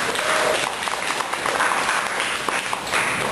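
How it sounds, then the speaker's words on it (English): Club audience applauding an award runner-up, dense continuous clapping from many hands throughout, fairly close and steady with no voices on top. "Let's give her a round of applause"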